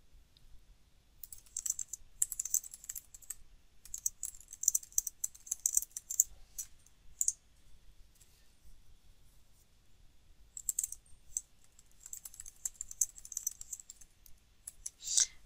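Clicky keystrokes on a computer keyboard as test data is typed into Azure DevOps, coming in uneven bursts with short pauses, close and fairly quiet, with no talking.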